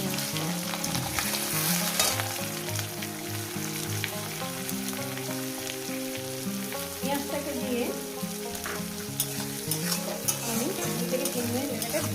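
Onion frying in a pan after a cumin tempering makes a loud, continuous sizzle with occasional stirring, for a spinach and fish curry, layered over steady background music.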